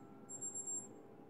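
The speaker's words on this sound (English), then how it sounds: "okay, timer." A timer alarm in The Sims 3 gives a thin, steady high electronic beep lasting under a second, heard close over a faint background hum.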